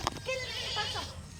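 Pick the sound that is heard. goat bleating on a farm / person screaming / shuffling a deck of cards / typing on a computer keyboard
goat bleating on a farm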